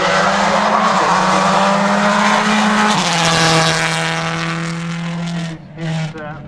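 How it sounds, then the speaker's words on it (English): A Subaru Impreza World Rally car roars past at high revs on a forest stage of Wales Rally GB 2010, engine note sliding down as it goes by, with a brief lift near the end. "the distinctive sound of the Subaru Impreza World Rally car"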